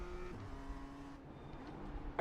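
Race car engines at the Nürburgring 24 hour race, heard from inside a car as a droning, shifting engine note while faster traffic closes in from behind, moderately loud and continuous.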